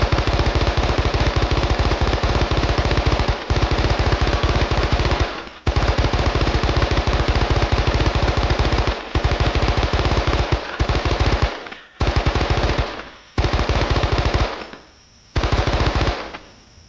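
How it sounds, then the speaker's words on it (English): An M60 machine gun fires in the Vietnam War video game Men of Valor, with long sustained bursts of rapid, loud, close shots, separated by brief pauses and ending in shorter bursts. "Oh, machine gun,"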